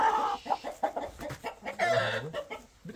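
Indian game roosters cluck in a series of close, short, uneven calls. A longer, drawn-out call rises near the end.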